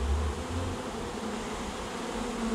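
A honey bee swarm being captured outdoors in May gives a steady, close, droning buzz of many insects that holds at even loudness throughout, with no talking.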